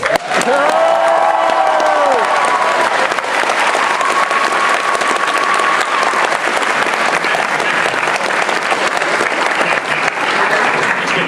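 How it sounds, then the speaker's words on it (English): Convention panel audience bursts into loud applause and cheering, with whoops and shouted voices rising over dense clapping at the start, then a steady, sustained roar of clapping filling the room throughout. "Applaud!"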